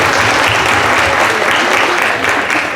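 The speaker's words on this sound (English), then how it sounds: "Round of applause, please." Brief, dense audience applause welcoming a panel moderator at a regional housing summit, loud and continuous throughout.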